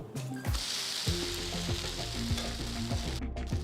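A freshly flipped set dosa fries on a hot pan with a loud, continuous close sizzle, while background music plays alongside.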